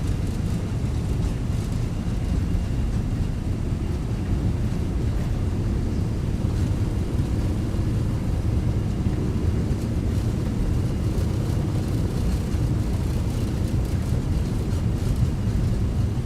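Boeing 757 engines at takeoff thrust in the X-Plane 12 flight simulator: a steady, loud, broadband roar with a heavy low rumble, constant and unbroken throughout.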